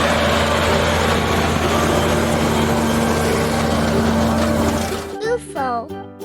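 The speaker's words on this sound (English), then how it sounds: "Tractor." A tractor engine runs with a steady, loud, droning rumble that holds even for several seconds, then cuts off and gives way to brief, higher tonal sounds.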